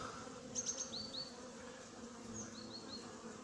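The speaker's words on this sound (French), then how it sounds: "Voilà un frelon qui vient." A hornet flies near beehives at an apiary, its faint buzzing drone mixed with a few high chirping bird calls against quiet outdoor background.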